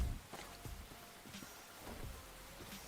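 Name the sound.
rain in a video game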